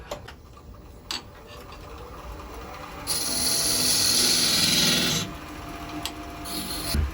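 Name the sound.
scraping turned wood with a French curve scraper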